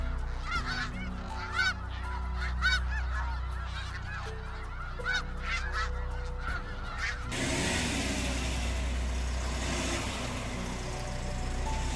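A flock of Canada geese honks repeatedly for several seconds, the calls loud and overlapping over a low rumble of road vehicles, before giving way to steady traffic-like noise.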